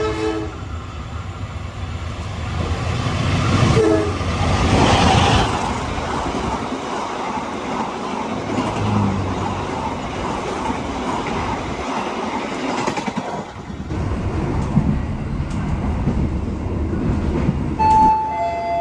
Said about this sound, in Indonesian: kita berhenti di stasiun Ngunut untuk bersilang dengan kereta api